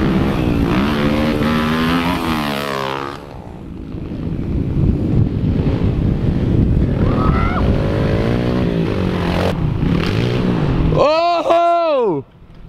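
A pit bike engine buzzes continuously as it rides around a dirt track, its pitch rising and falling with the throttle, heard up close under wind noise and excited voices, with a sharp rising whine near the end.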